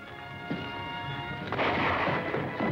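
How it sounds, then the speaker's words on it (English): Gunshots echo through a 1941 western film shootout, a couple of sharp reports followed by a denser rumbling burst of firing with a faint sustained musical tone underneath. "Just keep firing."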